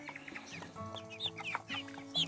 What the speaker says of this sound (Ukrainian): Є півники, є курочки.